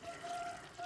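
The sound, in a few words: pouring water onto fermenting chicken feed grains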